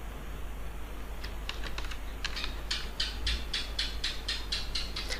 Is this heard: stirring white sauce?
no